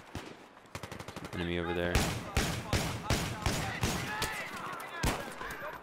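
Battlefield 3 team deathmatch with the M1014 shotgun firing flechette rounds: a rapid string of loud, sharp blasts fires in quick succession over the din of other gunfire, while a voice speaks briefly.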